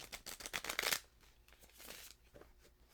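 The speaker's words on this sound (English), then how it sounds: "I'm going to shuffle this a little bit more" Playing cards riffle-shuffled up close in rapid, crisp bursts of flicking, loudest in the first second, then softer scattered card sounds and handling.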